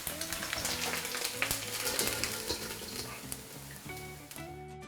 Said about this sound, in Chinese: 两面煎到这种焦黄时候，我们给它倒出来